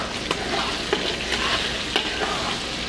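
Onions, garlic and peppers sautéing in a pot over low heat aboard a ship, a dense continuous sizzle and crackle with a few soft stirring scrapes.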